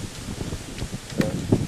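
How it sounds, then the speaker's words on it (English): Wind gusts and buffets steadily, with rustling noise and a couple of louder bursts near the end. "It's a bit windy, isn't it?"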